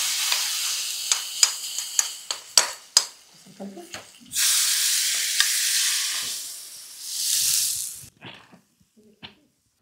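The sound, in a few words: hot oil tempering poured into tomato rasam, sizzling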